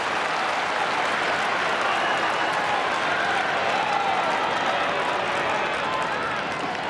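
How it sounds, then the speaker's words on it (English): An AFL crowd at a Carlton versus Fremantle match in 2016 roars and applauds, a continuous, broad swell of massed cheering and clapping that holds steady throughout. "Crowd starting to find voice, starting to enjoy the contest a bit more."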